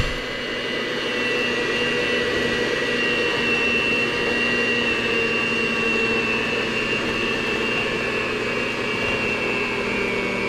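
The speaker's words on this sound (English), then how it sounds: "It's going to get a little too much for this mixer probably" An electric mixer mixing thick cookie dough of peanut butter, oats and raisins, a loud, steady motor whine with a strained hum that runs without a break.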